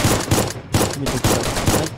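Rapid bursts of gunfire in the video game DayZ crack in quick succession, loud and close, with a steady rhythmic pattern.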